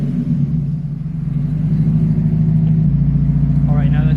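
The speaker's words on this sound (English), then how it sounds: "we're gonna do our startup with no exhaust, and let's hear how she sounds like" A car engine with no exhaust and a gutted catalytic converter idles with a loud, deep, steady rumble on first startup, the pitch stepping slightly near the end as it settles.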